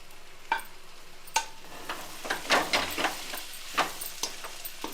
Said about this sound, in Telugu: బాగా కలపాలన్నమాట.